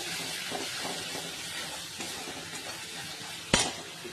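Spiced masala with yogurt being sautéed in oil until it releases, a continuous soft sizzle and hiss with faint stirring and one sharp utensil clink near the end, no voices.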